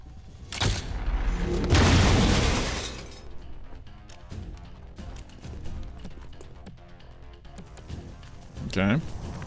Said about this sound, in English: let's shoot at the server